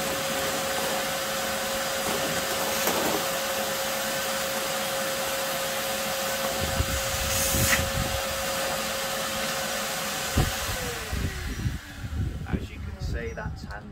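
A TITAN wet and dry vacuum cleaner drones steadily as it sucks up fine sawdust, a loud continuous motor whine with rattling intake noise, then winds down near the end among some clattering; speech is present.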